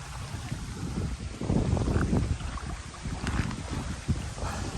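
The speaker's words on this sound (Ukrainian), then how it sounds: "вітер сильний" Strong wind roars steadily against the microphone, buffeting in gusts throughout with a low rumbling rush and no voices.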